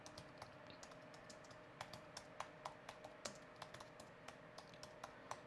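Rapid, uneven clicking of a computer keyboard as someone types code, the keystrokes fairly quiet and close with short bursts and pauses, no voices over them.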